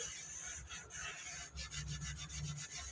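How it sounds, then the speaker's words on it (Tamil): Steady, coarse rubbing of a scrubber against a rusty iron kadai in a kitchen, a continuous gritty scraping with slight rhythmic strokes, close and fairly quiet. "இப்போ நல்லா அந்த துருலாம் போகிற வரைக்கும் தேய்ச்சிட்டு கழுவிடலாம்."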